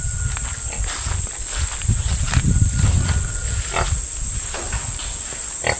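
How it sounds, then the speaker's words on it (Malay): Pigs in a village farm pen grunt and shuffle at close range, with low snuffling bursts and rustling movement under a constant high-pitched insect whine. "di kandang sekitar kandang babi ni"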